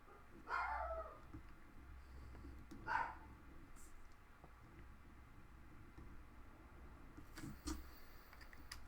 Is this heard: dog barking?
yes